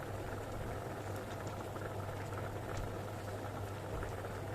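Water boiling in a cooking pot on the stove while udon is being made, a low, steady bubbling hiss with a faint hum underneath.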